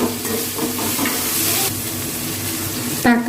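Green chillies, mint and coriander stirred in a hot pan for coconut milk rice, a loud, dense sizzle and hiss with rhythmic scraping, ending in a short tonal squeal, close and without speech.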